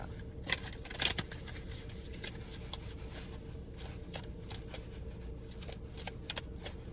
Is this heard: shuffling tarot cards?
yes